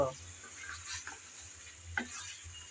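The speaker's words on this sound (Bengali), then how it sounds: "মাটন দিয়ে এখন ভালোভাবে নেড়ে চেড়ে কষিয়ে নেব" Mutton being stirred and braised in a pan, with quiet scraping strokes and a faint sizzle, plus a couple of brief clinks, all low and close.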